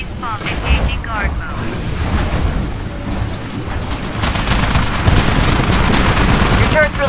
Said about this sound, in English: Your turret's really ripping up the IMC.